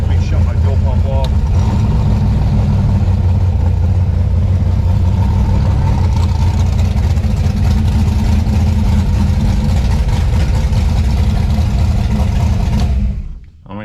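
A 1956 Chevy gasser race car engine runs loud and close with a thick, steady rumble before it is shut off and dies away at the very end.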